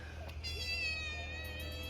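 A domestic cat meowing indoors, a few drawn-out tonal cries close by over a steady low background hum.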